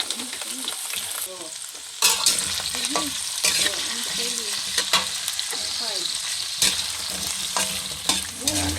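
Potato and carrot pieces frying in a pan, with steady loud sizzling broken by repeated clanks and scrapes of a utensil stirring against the metal, and no talk.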